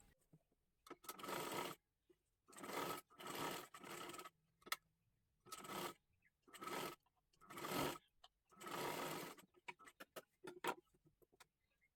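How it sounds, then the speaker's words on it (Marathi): A sewing machine stitches lining around a dress neckline in repeated short runs of about a second each, separated by brief pauses. The machine is close but fairly quiet. "एकदम कडेकडेला आपल्याला इथं पूर्ण गळ्याला शिलाई करून घ्यायचं आहे"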